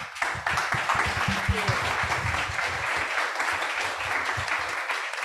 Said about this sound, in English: let's give a loud applause to our panelists.